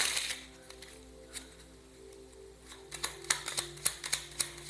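Tarot cards are shuffled, a soft riffle and brush giving way to a quick series of crisp, irregular taps and flicks as cards fall out, close and fairly quiet with no talk.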